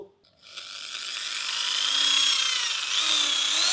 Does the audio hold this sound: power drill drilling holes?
yes